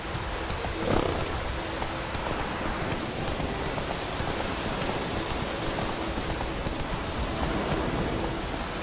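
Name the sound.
rain in a video game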